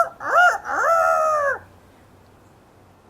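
A rooster crows twice in quick succession, loud and close, in a rising and falling cock-a-doodle-doo during a reading of the Bremen town musicians story, followed by quiet.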